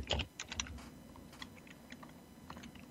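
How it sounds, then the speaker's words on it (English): Someone pounds on a computer keyboard during a sports talk show, loud clustered keystrokes at first, then quieter scattered taps close to the microphone. "with the pounding on the keyboard, you're checking"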